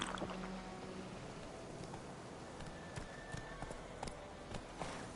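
Horse hooves clip-clop at a gallop in The Witcher 3: Wild Hunt video game, faint rhythmic thuds buried under steady wind-like ambient noise, with no talk.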